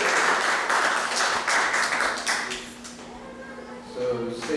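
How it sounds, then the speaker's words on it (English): A temple congregation at an ISKCON kirtan night in Atlanta gives the kirtan singers a round of applause, a moderate wash of clapping that thins out toward the end as a faint voice and low tones appear. "Let's give a round of applause for all the kirtaniyas"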